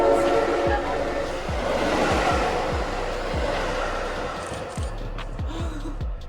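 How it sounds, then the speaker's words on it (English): A real train rolls past nearby, a steady loud rumble with rhythmic clacks of wheels over rail joints repeating throughout. "Whoa, a real train's gonna come by."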